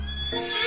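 A single horse neigh from the KFC dating sim game, the horse carrying Colonel Sanders, a short bright rising whinny heard close and clear with no talk over it.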